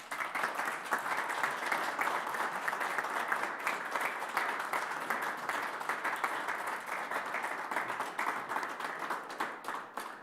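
Sustained applause from a ceremony audience honouring an honorary doctorate recipient at a university science faculty, dense steady clapping lasting throughout without pause.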